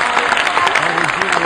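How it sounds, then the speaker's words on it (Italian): Dense, steady applause from an audience in an auditorium at a sports club presentation, loud and close, with voices mixed into the clapping throughout. "Quindi un applauso anche all'atletica."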